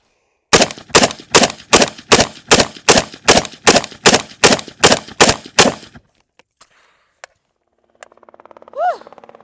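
Military rifle emptying a full magazine, about fourteen sharp, loud shots in an even rapid rhythm over five seconds, then a few metallic clicks and a person's exhale afterward.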